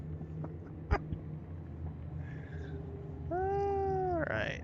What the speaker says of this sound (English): God, we have some really destructive cats.